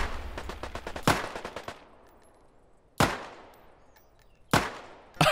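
Gunfire rings out in a survival video game firefight: a rapid automatic burst, then two loud single shots a couple of seconds apart, each followed by a fading echo.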